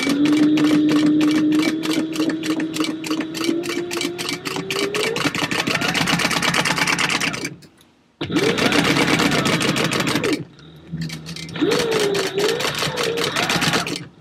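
A sewing machine runs in long, steady stitching bursts through clear vinyl for a Mario book bag, pausing briefly twice before resuming its rapid, loud mechanical chatter.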